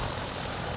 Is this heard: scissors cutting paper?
no